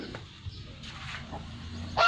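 A goose on a mixed backyard farm lets out one loud, close honk at the very end after a few seconds of quiet outdoor background noise.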